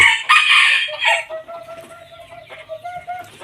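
A Thai game rooster crows loudly and close by. A bright, strained call opens with a stretched, wavering ending. Softer clucks and other fowl follow in an open yard.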